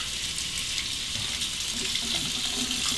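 Tap water running steadily into a bathroom sink while a razor is rinsed, a continuous close hiss and splash with no talk.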